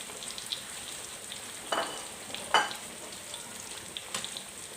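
Onions and tomatoes frying in a pan, a steady soft sizzle with a few brief louder crackles and pops, heard alone without voices.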